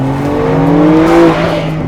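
A 2021 Porsche 911 Carrera 4S under way, its engine a loud, steady droning hum heard from inside the cabin, rising slightly in pitch before easing back.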